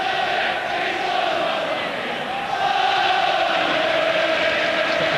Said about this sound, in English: It's got the crowd brought back to life again